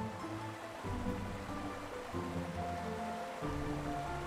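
Waterfall in the video game IfSunSets, a continuous broadband rush of falling water with a gentle, steady texture, moderately loud and unbroken, with no voices over it.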